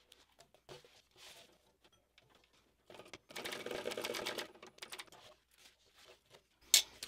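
A sewing machine stitching a fabric bag runs in short, quiet bursts of rapid needle clatter separated by pauses, with the longest run in the middle and a sharp click near the end.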